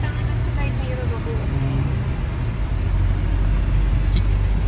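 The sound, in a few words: car driving, heard from inside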